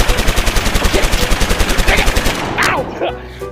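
An automatic Nerf blaster fires darts outdoors in a fast, even burst of sharp mechanical pops that lasts a few seconds and then stops, followed by a brief voice.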